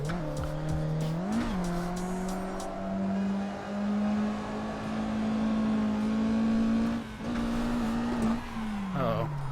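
A stock Mazda Miata in the Assetto Corsa racing game squeals its tires through a long handbrake drift, a loud sustained whine that wavers in pitch over a steady engine drone, with brief voice-like bursts near the start.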